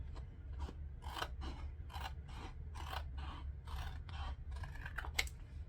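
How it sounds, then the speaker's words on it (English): Scissors snip through the edges of a vinyl sheet in a steady run of about a dozen close, crisp cuts, each a short rasping burst over a faint low hum, with no talking. "I'm going to cut off the edges of this vinyl."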